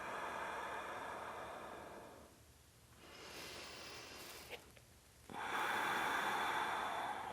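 Slow, deep breaths during a pregnancy yoga practice, a long steady airy exhale fading into quiet, then a sharper sniffing inhale rising into a broad, loud rush of breath near the microphone.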